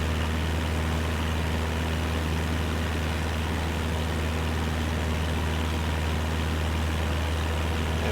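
An aircraft engine in MS Flight Simulator 2024 drones steadily at reduced engine speed, a loud, constant low hum with a strong tonal buzz and no variation or talking throughout.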